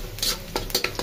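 Chopped onions dropped into very hot oil, a brief close sizzle with quick clinking stirs against the pan.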